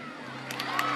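A home crowd cheers at a college gymnastics meet between BYU and USU, a brief swell of shouts and applause that rises toward the end.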